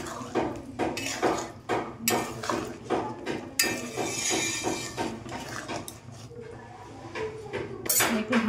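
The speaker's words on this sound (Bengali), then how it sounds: "এবার একটু নাড়িয়ে নেব।" A raw banana kofta curry stirred in a pan, with repeated metallic clanks and scrapes of a utensil against the cookware at an uneven rhythm, close and fairly loud throughout.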